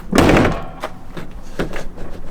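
A car door on a neglected second-generation vehicle slams shut with a loud, solid thunk after its handle is repaired, followed by a few fainter knocks and clicks nearby.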